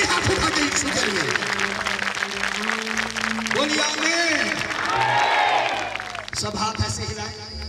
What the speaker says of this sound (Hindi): आइए हाथ उठा के ताली बजा के उसको आदर दें, जोरदार ताली